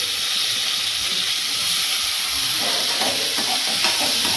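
Tomatoes and green chillies sauté in hot oil with salt for prawn biryani, a steady close hiss and sizzle that runs throughout, with soft stirring scrapes toward the end.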